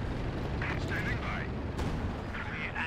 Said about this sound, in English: MG still trying to shoot the armor for some reason